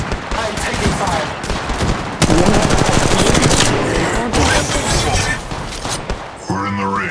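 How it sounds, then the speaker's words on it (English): Loud, sustained automatic gunfire rattles in Apex Legends Mobile, with dense rapid bursts and booms running almost the whole time and a voice speaking briefly near the end. "I'm spotted. I'm taking fire."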